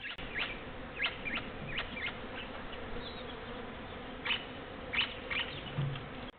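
Bees buzz steadily outdoors in Australian bushland at dusk, a continuous insect drone with brief louder passes as individual bees fly close, joined by occasional faint bird calls in the background.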